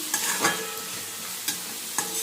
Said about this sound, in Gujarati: વટાણા ફૂટવા લાગ્યા. જોઈ શકો છો બધું શાક આપણે તેલમાં નાખી દીધું છે